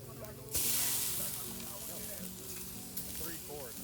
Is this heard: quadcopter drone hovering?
no